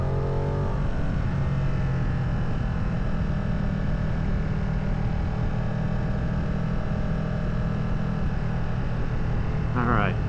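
A car engine pulls hard after a downshift into a lower gear, a loud, steady rumbling drone that holds through the whole stretch and climbs slightly in pitch near the end.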